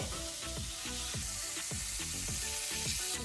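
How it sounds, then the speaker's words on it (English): Pork chops sizzle steadily in a hot frying pan, a dense continuous crackle with rhythmic scraping or stirring strokes repeating about every half second, close and fairly loud with no talk. "I'm going to be frying it as you see"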